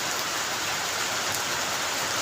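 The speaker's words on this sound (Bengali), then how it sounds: "এই বাংলা মাসের প্রথম বৃষ্টি" Steady rain falls in a dense, even hiss, close and continuous with no other sounds, during the first rain of the season.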